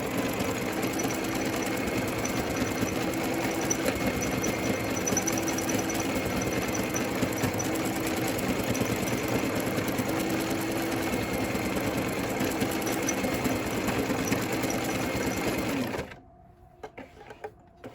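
A sewing machine stitches back and forth over a hole in a fleece rat cage liner, a steady close mechanical whir with a rapid needle rhythm that stops abruptly near the end, leaving faint handling noises.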